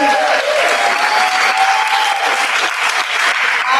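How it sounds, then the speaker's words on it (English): Steady, dense clapping from an audience fills the room, celebrating a World Slam Poetry competition winner at a festival, loud and continuous throughout. "So a big round of applause for Adi."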